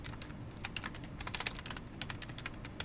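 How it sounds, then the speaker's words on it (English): Quick bursts of typing on a computer keyboard, a rapid irregular patter of close, fairly quiet key clicks with no speech. "I'm apparently very bad at typing."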